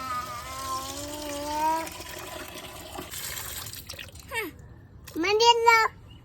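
Water trickles and pours with a rising, filling tone, interrupted by a child and an adult speaking close by.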